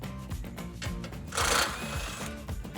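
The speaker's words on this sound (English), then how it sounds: "We're going to use a 16mm socket to get those out." Ratcheting 16mm socket wrench backing bolts out of a Jeep Wrangler JL frame section while removing the rear bumper, a steady buzzing rattle of repeated clicks up close, with a louder, harsher burst partway through.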